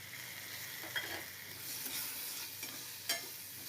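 Chopped onion and tomato fry in a pan, giving a continuous close sizzle with a few sharp clicks and scrapes as they are stirred. No voices are heard.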